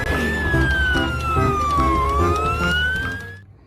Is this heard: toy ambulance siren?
yes